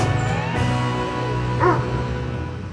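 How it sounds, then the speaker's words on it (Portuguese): Three-legged dog at an animal shelter giving a short yelping bark, heard once over a background hum and tonal room noise. "Inclusive, é ele que está latindo"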